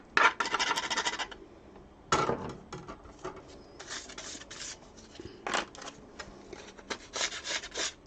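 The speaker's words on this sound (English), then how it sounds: "And I'll just scrape this off." A pick tool scraping a piece off paper card stock in short rasping strokes, close and fairly quiet, with brief pauses between scrapes.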